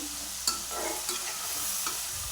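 A spatula stirs bharda, a mix of vegetables with tomato and onion, sizzling in a pan: a steady frying hiss with a couple of brief scraping strokes, close and fairly quiet, no voices.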